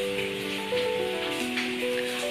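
Rain falls steadily on potted garden plants in a yard in the late afternoon, a dense, even hiss of drops that carries on without a break, with sustained tones mixed in underneath.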